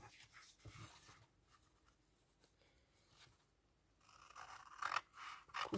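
Scissors snip and scrape close-up around a paper pocket for a scrapbooking storage project, with a few quiet cuts at first and louder crisp snipping bursts toward the end.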